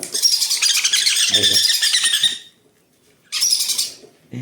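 Baby conure chicks call shrilly while waiting to be fed, two loud, close bursts of rapid high chirping separated by a short silence, with a brief low voice-like sound underneath.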